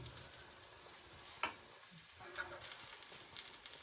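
Zucchini pancake batter with tomatoes and cheese sizzling in a frying pan over moderate heat, a steady close crackle with a few louder pops and no talking.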